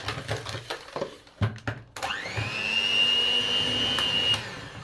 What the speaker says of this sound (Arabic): وهضرب بقى كل دول شوية لحد ما يعملوا فوم معايا والسكر يدوب